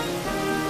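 Steady rain falls in the video game Pokémon Black, a continuous loud hiss with no break over a short moment.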